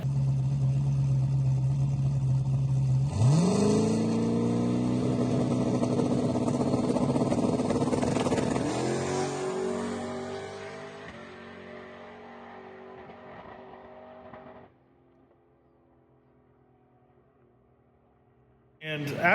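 Race car on a rented track revving hard through gears, a loud rising engine roar with harmonic sweeps that eases off and fades to near quiet, then a short burst at the end.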